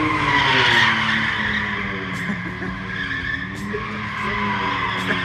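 A McLaren 720 GTR race car skids with a sustained, wavering tire squeal, its engine droning loud and close beneath, while a voice talks over it.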